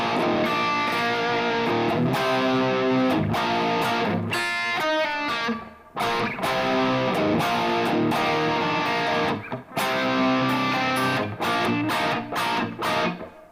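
A distorted electric guitar is played through a Jose overdrive pedal with reverb switched on, producing loud, sustained chords and riffs with short pauses between phrases.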